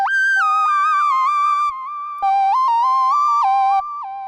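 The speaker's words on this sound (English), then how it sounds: "how to create the high-pitched lead from GTA San Andreas theme song" A bright, high-pitched synth lead in the style of the GTA San Andreas theme plays a stepping melody of sustained, gliding notes, loud and alone with a short gap midway.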